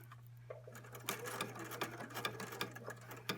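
A sewing machine stitches around the armhole of a sequined stretch top, a fast steady mechanical chatter with sharp clicks as the needle hits sequins, close and fairly quiet, with no talking.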